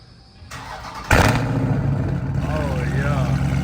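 A Dodge Charger Scat Pack with catless mid-pipes fires up with a sudden loud, raspy roar, then settles into a deep, throbbing idle with a brief rise in revs, while voices are faintly heard nearby.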